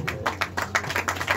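Scattered hand claps from an audience at a Tamil film audio launch, a few distinct bursts of clapping in quick succession, moderately near and fairly light.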